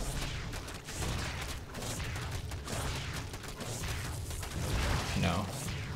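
A cannon in StarCraft II fires repeatedly at a base, giving a string of rapid shots and impacts in a busy battle mix. Game effects and commentary-like speech run throughout.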